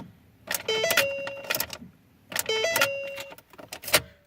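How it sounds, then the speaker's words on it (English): A key turns in the ignition of a 2009 Ford Focus that will not crank, twice producing a chime-like tone with clicks and key rattle and no engine starting. "put the key in the ignition, turn it, no start. Try it a few times."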